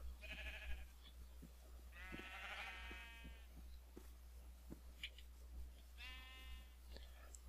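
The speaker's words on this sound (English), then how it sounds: "Even more sheep." Minecraft sheep bleat several times in wavering, nasal calls spread across the stretch, fairly quiet over a low constant hum with soft clicks between.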